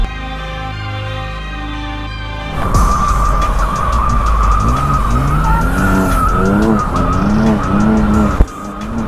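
A BMW convertible drifting, its tires skidding in loud, sustained squeals with wavering pitch over a revving engine, close by. The sound starts abruptly after a lower engine hum and cuts off near the end.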